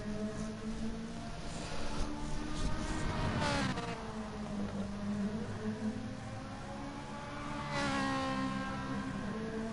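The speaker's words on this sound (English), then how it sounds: "Makes a great noise, the Ferrari." A Ferrari race car engine revs hard during an endurance race, its pitch climbing and dropping through repeated gear changes under a constant buzzing drone.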